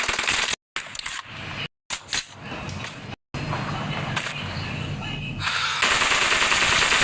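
Rapid gunfire in the mobile battle-royale game PUBG Mobile, dense bursts of shots that keep going throughout, cut by a few sudden silent gaps and under a busy game soundscape.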